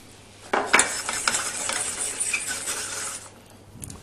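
Butter for a tarte tatin drops into a pan with a metallic clatter, followed by a few seconds of soft sizzling and clinking before it settles quiet.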